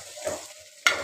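Garlic cloves and ginger pieces tossed into softened onions for mutton kulambu, a soft frying sizzle with stirring scrapes and a sharp burst of sizzle near the end, close and alone.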